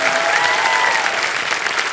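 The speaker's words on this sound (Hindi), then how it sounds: "एक बार आशा जी के लिए जोरदार तालियां बज जाएं" Studio audience applause on a Hindi TV game show, a steady, dense burst of clapping from a full room lasting throughout, loud and even with no voices standing out.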